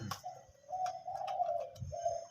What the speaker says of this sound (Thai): เป็นนกสองกุก นะครับผม เสียงกลางไปใหญ่นะครับตัวนี้